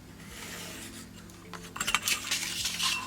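Cutting a passport-size traveler's notebook insert, with soft paper scraping and faint rasps building into a busier run of scratchy cuts near the close, all fairly quiet and close.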